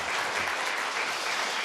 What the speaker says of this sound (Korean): 곡중 솔로 양효 권사님, 예, 우리 한번 박수 해주십시다